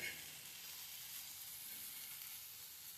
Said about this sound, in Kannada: ಈ ಥರ ಫ್ರೈ ಆಗುತ್ತೆ